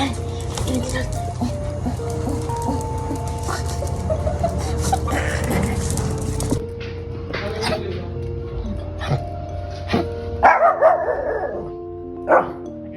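A dog barks and howls repeatedly at a family's home on a Sunday, fairly close and insistent, while people talk and other household noise continues around it.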